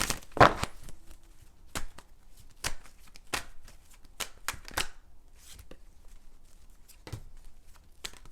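A tarot deck is shuffled close by in crisp, irregular riffles and slaps, with a longer flurry near the start and scattered shuffles after it, heard alone.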